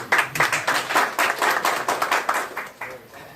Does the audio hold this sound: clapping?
yes